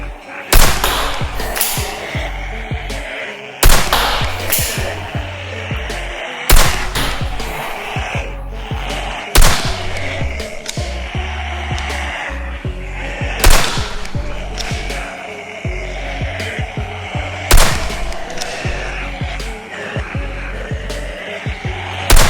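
A Nerf Zombie Strike Quadrot blaster fires foam darts at a target about 20 feet away, with sharp loud pops every few seconds in a regular rhythm, each followed by a short clatter and handling noise; no speech is heard over it.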